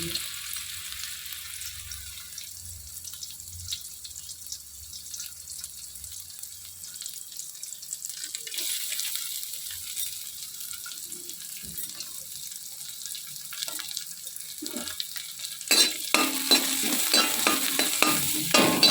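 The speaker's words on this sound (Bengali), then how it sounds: "নারকোলটাকে বেশ লাল লাল করে ভেজে নেব।" Grated coconut and spices frying in oil in a pan for niramis ghugni give a dense, steady sizzle and hiss. It swells louder near the end, with scraping stirs throughout and no voices.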